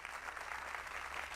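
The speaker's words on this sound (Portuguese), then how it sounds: "Podem aplaudir pela Igreja Católica Apostólica Romana." Applause from a studio audience during a televised talk show, a brief steady wash of clapping at moderate distance.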